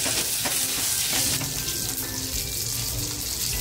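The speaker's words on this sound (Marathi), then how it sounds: "अगोदर मिरच्या टाकते तेलामध्ये. मिरची आणि लसूण टाकली अगोदर." Chillies and garlic dropped into hot oil sizzle loudly and continuously, a dense close crackle with a few faint clicks from the pan, no voices.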